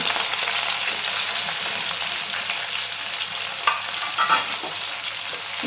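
Green chillies and chopped onions fry and sizzle steadily in a pan, a continuous close hiss with a few brief stirring scrapes and no talk.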